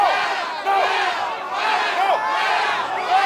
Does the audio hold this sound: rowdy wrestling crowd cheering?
yes